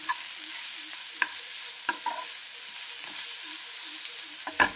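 Carrots, chilli and mixed vegetables frying in a pan, a steady soft sizzle under a few light scraping stirs and taps of the spoon, close by, no talking.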